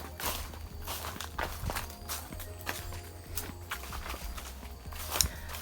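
Footsteps walk outdoors among trees at a steady pace, each step a crunchy, fairly close thud on the ground, with no talking.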